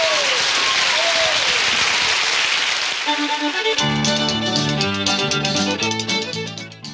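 An audience applauds after a sung performance: a burst of clapping that fades out as music starts and takes over.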